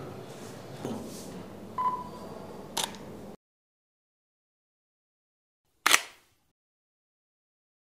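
Nikon and Sony cameras set to ISO 500, 1/125 shutter speed and f/4 fire three sharp shutter clicks close by over a faint room hiss, then after a silent gap a single louder click.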